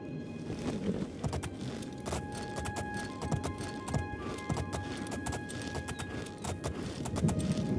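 Horse hooves clip-clopping on ground in the video game Oblivion, a quick continuous patter of close, distinct knocks with occasional metallic tones under a steady background bed.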